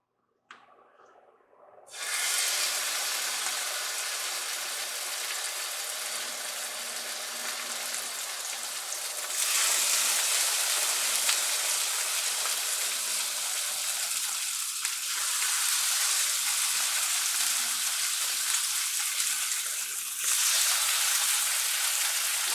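A salmon fillet sizzles loudly in hot extra virgin olive oil after a quiet start, with a strong, steady hiss that swells at moments as the frying continues for a long stretch, and no voices.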